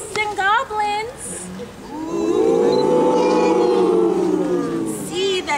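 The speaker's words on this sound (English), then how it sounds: "Hear those ghosts and goblins." Spooky haunted-house sound effects for a college Halloween event: eerie low moaning and howling ghost and goblin noises swell loudly and sustain for several seconds, with brief speech before and after.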